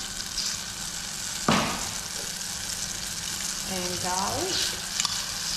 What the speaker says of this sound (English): We want the butter to get all bubbly and frothy before we add the flour.